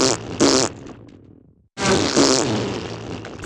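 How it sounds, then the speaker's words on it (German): Fart sound effects play in a loud burst: a sputtering blast that tapers into a fading rumble, a short silence, then a second long, raspy fart. "unterlegt mit Furzgeräuschen."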